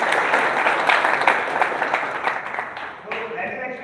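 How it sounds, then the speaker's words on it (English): An audience claps for a participant at a talk about vehicle driver-assistance systems, a dense patter that thins and fades out, with faint voices near the end. "Can we give a big clap for this guy?"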